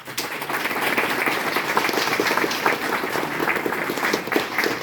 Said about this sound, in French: Bravo à eux. Vous pouvez les applaudir.